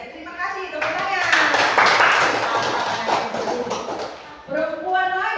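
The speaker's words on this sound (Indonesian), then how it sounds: "Terima kasih, tepuk tangan." Students in a classroom clap together loudly and close by for several seconds, with a teacher's voice heard briefly before and after the clapping.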